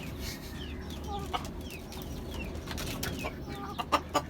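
Three hens on a rooftop garden cluck in short broken bursts over steady outdoor background noise, with a few sharper calls near the end.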